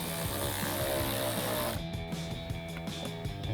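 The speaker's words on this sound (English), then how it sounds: "Let's tighten down on our throttle body first. It's the same thing, it's an 8mm socket." Ratchet with an 8mm socket tightening the throttle body clamp on a 2024-2025 Mustang GT during a cold air intake install, rapid close clicking in quick repeated strokes.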